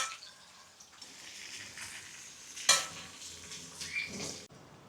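Dried sudhumbu fish, a salai meen karuvaadu, frying on full flame in a pan: a steady moderate sizzle with stirring and utensil scrapes, and a brief louder clatter partway through.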